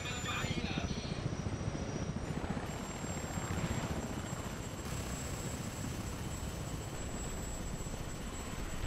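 A Gazelle helicopter in the video game Battlefield 1942 gives off a loud, steady rotor and turbine drone that fills the whole stretch without pause.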